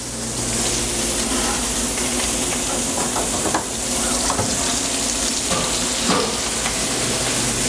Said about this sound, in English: we're just going to fry it for a few minutes